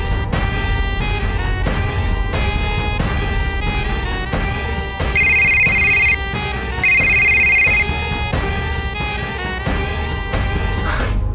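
A telephone rings in two bursts of electronic trilling, loud and close, set against a dense musical backing with sharp rhythmic hits throughout.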